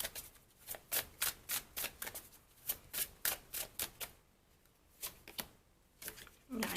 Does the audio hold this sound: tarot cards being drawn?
yes